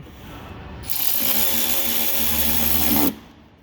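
A cordless electric power tool runs in one loud, close burst of about two seconds, tightening bolts on a Ford Super Duty.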